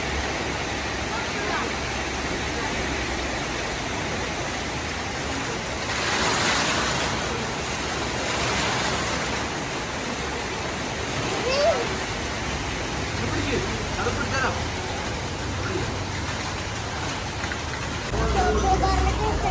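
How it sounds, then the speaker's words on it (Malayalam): Heavy rain falls outside during a stop on a trip to a Kerala temple, a constant dense hiss that holds for the whole stretch, with a few louder swells. "നല്ല മഴ, നമ്മുടെ വണ്ടിയുടെ എടുക്കുന്ന മഴയത്ത് നല്ല മഴ പെയ്യുന്നുണ്ട്."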